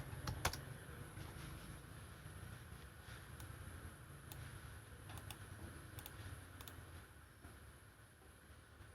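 Quiet, steady typing on a computer keyboard, a run of soft, fast clicks with occasional sharper key taps over a constant low background hum, no voices.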